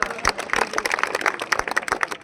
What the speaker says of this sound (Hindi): ताली लगा दो जोरदार